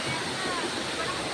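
Tso Kung Tam waterfall in Tsuen Wan, Hong Kong, roars as a dense, steady hiss of falling and rushing water that fills the whole moment at close range, loud and unbroken.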